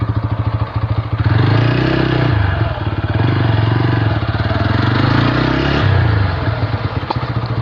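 Motorcycle engine running close and loud with a rough, pulsing idle that swells as the bike rolls past and then steadies, a continuous mechanical rattle throughout with no clear voices.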